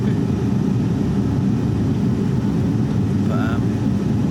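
Airplane circling while waiting to land, heard from inside the cabin as a steady, loud, low engine and airflow rumble, with a brief faint chime-like tone near the end.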